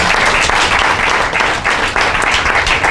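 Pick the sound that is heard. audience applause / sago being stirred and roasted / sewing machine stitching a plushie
audience applause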